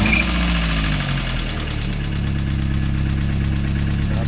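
A naturally aspirated Mazda Miata fitted with an eBay header fires up and settles into a loud, steady idle with a low, throbbing exhaust rumble, heard close and alone.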